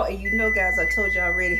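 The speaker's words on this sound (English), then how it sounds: "and that's my alarm going off" A kitchen oven alarm beeps steadily as a high, continuous tone running under a person talking close by, while beef Wellingtons bake.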